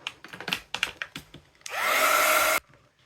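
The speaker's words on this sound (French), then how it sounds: "Donc là, un petit coup de séchage." A hair dryer drying paint on a pastel painting made with Woodys crayons and gesso switches on after a few soft taps and blows a steady, loud rush of air for about a second, then cuts off.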